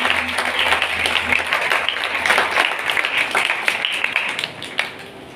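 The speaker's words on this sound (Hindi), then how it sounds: "आज के कलाम के लिए और खुदा के खादम के लिए जोरदार तालियां।" A church congregation at a Sunday service applauds loudly, the clapping dense and sustained across the whole stretch and thinning out near the end, with a low hum in the background at the start.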